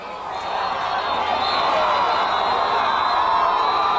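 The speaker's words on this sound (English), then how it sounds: "the Northeast fans are very vocal over there. They got a big crowd here" A large crowd of Northeast fans roaring and cheering at a 2002 high school football game against West Branch, a loud sustained wall of voices that swells after the first half second.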